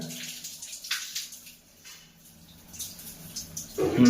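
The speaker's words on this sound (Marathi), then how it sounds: "पायावर पाणी घे" Water poured over feet splashes and trickles in short bursts, with dripping and a louder splash at the end.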